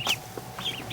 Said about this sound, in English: but that's the little ducklings.